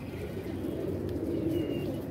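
Pigeons coo in a low, continuous murmur close by, with a faint chirp above the cooing. No voices are heard.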